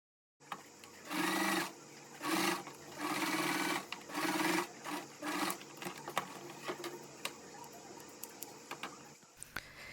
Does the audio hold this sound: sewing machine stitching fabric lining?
yes